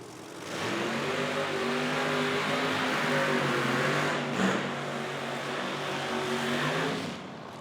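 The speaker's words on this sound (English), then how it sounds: "Burnouts commence here with the Angry Farmer Small Tire Brats category." A Small Tire Brat drag race car does a burnout at an IHRA Outlaw Nitro Series event, its engine holding a loud, steady, throaty roar for several seconds before cutting off sharply.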